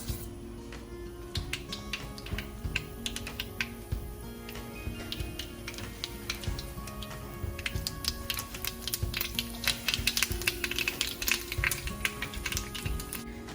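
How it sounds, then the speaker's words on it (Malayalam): Rapid, irregular crackling pops of mustard seeds bursting in hot corn oil, dense and close, sounding almost like fast typing over a low steady hiss. "ഓക്കെ, കടുക് പൊട്ടി."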